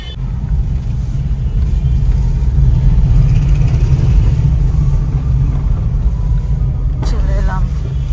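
A car driving along a road, a steady low engine and road rumble throughout, fairly loud and close, with a brief higher sound near the end.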